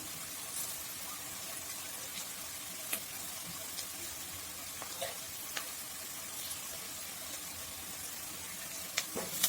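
Garlic goes into onions frying in a pan for a wild jackfruit vegetable dish, a faint, even sizzle with soft stirring ticks and small pops.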